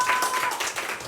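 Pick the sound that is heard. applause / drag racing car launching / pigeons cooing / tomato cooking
applause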